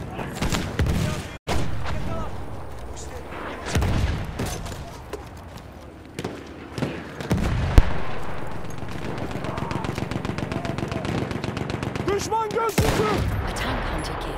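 Gunfire in the video game Battlefield 1, loud bursts and single cracks scattered through a noisy battle, with some rapid automatic fire toward the end.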